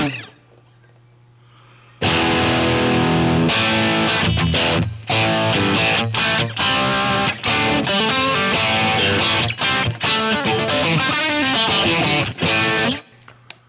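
Electric guitar played through a Line 6 Pod Express on its Friedman BE100 crunch model, BE/HBE channel, with a little reverb: loud distorted chords and riffs starting after a short quiet lead-in, with brief stops between phrases.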